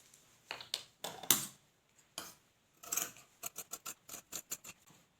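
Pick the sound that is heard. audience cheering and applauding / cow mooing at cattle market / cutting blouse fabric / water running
cutting blouse fabric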